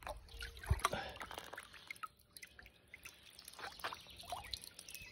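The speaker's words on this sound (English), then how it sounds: "all right, just gonna let it drip off" Eco Wood wood treatment drips and trickles off a bee box cover in scattered, irregular drops and small splashes, close and fairly quiet, with light handling noise between them.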